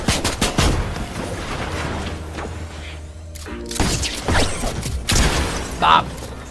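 Rapid bursts of assault rifle fire in the Fortnite video game, loud close shots clustered at the start and again later, with mechanical clicks between and a player talking over them.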